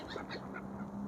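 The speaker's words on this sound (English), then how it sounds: "And there are so many birds here." Geese and ducks at Leybourne Lakes in December, heard as a few scattered honks and calls, moderately distant over a steady low background hum, with no talking.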